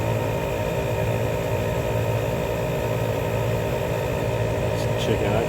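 Ironman 4x4 Air Champ dual tyre inflator runs steadily with a continuous motor drone and buzzing hum, loud and close throughout with no pauses.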